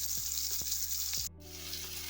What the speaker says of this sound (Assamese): আলুকেইটাও অলপ ফ্ৰাই কৰি লৈছোঁ ইয়াতে।